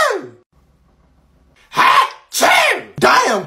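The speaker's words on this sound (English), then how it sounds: "Achoo! Oh, bless you." A person sneezes three times in quick succession, each a loud, close, sharp burst, after a brief low-pitched sneeze-like sound at the start and a short quiet gap.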